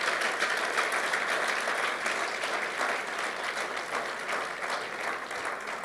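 A church congregation claps for the Lord during a Portuguese-language worship service, dense and sustained applause filling the room at steady strength.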